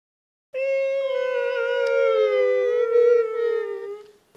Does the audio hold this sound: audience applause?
no